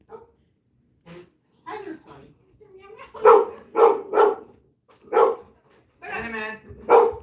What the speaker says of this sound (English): You're barking at my cat